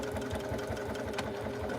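A home sewing machine stitches a tote bag, its needle running in a rapid, even mechanical chatter close by and steady for the whole stretch.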